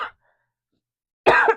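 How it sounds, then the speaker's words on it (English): A single harsh cough bursts out near the mic after a brief trailing sound and a long stretch of silence. "Excuse me, I'm going to cough."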